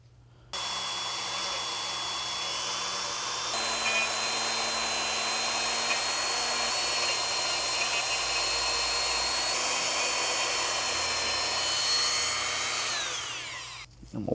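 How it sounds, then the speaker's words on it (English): A Dremel rotary tool polishes the striker of a Ruger MAX-9 pistol with a steady high-pitched whine that starts abruptly, holds for about thirteen seconds with a slight pitch shift partway, then winds down, loud and close with no talking. "Let's get onto a Dremel"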